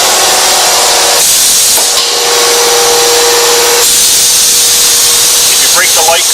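An 1100-ton hydraulic press runs its ram up and down in an industrial shop, giving a loud steady mechanical hum and hiss with a faint whine and brief shifts in tone, with no voices.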